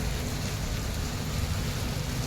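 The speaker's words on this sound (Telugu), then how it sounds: "వాన అయితే పడుతూనే ఉంది" Rain falling heavily and steadily during a road trip, a dense continuous hiss with a low rumble underneath, loud and unbroken throughout with no voices.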